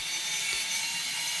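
A circular saw or chainsaw cuts through thick timber beams for a house frame, giving off a continuous high whine without a break. It is loud and close, with no speech.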